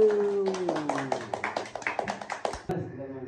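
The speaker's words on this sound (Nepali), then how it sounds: "क्ल्याप गरेर ताली बजाइदिए।" Applause for the winner of a dhamula card-game contest: a burst of about a dozen sharp, close hand claps in an uneven rhythm, starting as a voice speaks and fading out after a few seconds.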